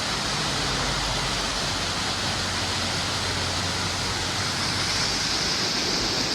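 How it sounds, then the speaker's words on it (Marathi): Waterfall in Malshej Ghat, a steady broadband roar of falling water that fills the whole clip at constant loudness, with no voices. "वरती पण आहे धबधबा बघा"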